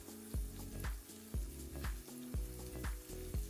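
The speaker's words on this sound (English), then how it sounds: "we're just gonna saute that" Ham, bell pepper, red onion and garlic sautéing in a pan for an omelet filling: a steady close sizzle broken by regular rhythmic scraping strokes of a utensil, moderately loud, with no voices.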